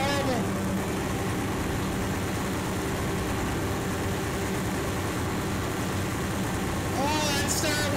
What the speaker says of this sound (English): We got some engine damage.